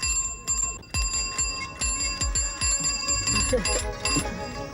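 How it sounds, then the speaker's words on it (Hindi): A bell rung repeatedly in quick, uneven strikes, each with a ringing decay, loud and close, with a voice faintly heard among the chimes. "वो तो बहुत अच्छी घंटी बजाता है।"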